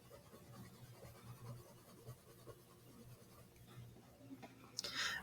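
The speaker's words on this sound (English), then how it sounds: "When you shade with colored pencil" Colored pencil shading across paper, a quiet, close, continuous scratchy rustle of overlapping strokes with a faint low hum beneath, ending in a brief brighter, harsher scrape.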